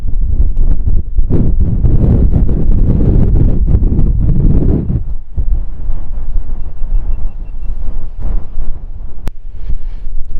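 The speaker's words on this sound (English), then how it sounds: "the wind is just brutal. I've just measured it, it's like 42 mile an hour gusts" Brutal gusty wind near the summit of Pen-y-Ghent in the Yorkshire Dales, gusting around 42 mph, roars loudly across the microphone for several seconds, then eases into a lower, steadier rush.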